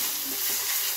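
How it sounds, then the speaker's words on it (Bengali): Hot oil hisses and sizzles steadily over onion and garlic spice masala in a pan, a close, continuous frying crackle with faint stirring. "আর সামান্য আমি একটু তেল দেব মশলাটার উপর।"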